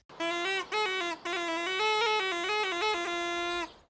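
Xeremies, reed pipes of the shawm type made from cane, play a loud, buzzy, nasal melody of sustained notes with brief breaks, close and alone.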